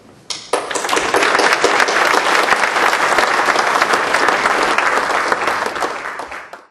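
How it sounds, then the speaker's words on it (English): An audience at a talk breaks into loud, full applause welcoming a speaker, rising sharply and holding a dense, even clatter of many hands before tapering at the end. "please give a round of applause to"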